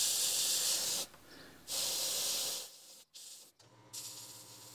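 Red oxide paint sprays through a small template in two or three hissing bursts, each lasting about a second, with pauses and faint handling sounds between them, heard close and alone.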